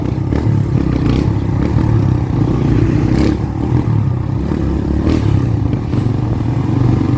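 Kawasaki Barako 2 motorcycle engine running close and loud with a rough, uneven, misfiring beat while revving, with clattering throughout and no talk.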